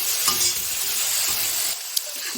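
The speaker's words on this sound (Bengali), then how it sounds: "আলু অল্প ভেজে নিব হালকা করে, তারপরে ভেন্ডিগুলি অল্প হালকা করে ভেজে নেব।" Potatoes and okra frying lightly in hot oil, giving a close, steady sizzle with a few stirring scrapes and a small clink near the end, no voices.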